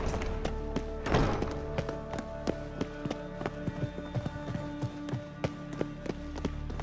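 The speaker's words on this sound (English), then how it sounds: "Footsteps." Footsteps approach in The Witcher 3, a steady series of soft thuds over a low music bed, clearly audible and moving closer at a walking pace.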